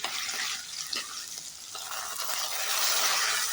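Fish curry masala with tomato sautéing in a pan, a steady hissing sizzle with light stirring scrapes that grows fuller toward the end, close and moderately loud, with no voices.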